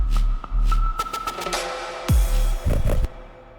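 A dungeonstep track where the bass drops out for a held breath, then a punchy kick lands with a deep pitch-dropping thump, followed by a few more low hits and fading tones, no talking.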